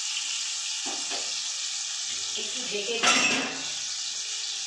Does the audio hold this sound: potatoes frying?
yes